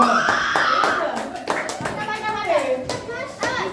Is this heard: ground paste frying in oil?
no